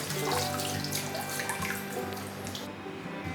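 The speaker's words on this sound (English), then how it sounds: "we're gonna wash them really well and try to get out a lot of the seeds" Steady running water splashing in a sink as loofah sponges are washed to rinse out seeds, a continuous close faucet stream with light dripping and sloshing.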